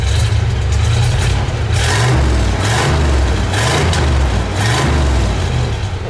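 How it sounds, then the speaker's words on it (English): A 1965 Chevrolet Impala SS V8 with dual exhaust, revved hard several times in a row. Each rev is loud and close, with a deep rumble that swells and falls between the bursts. "Tony, give it a rev."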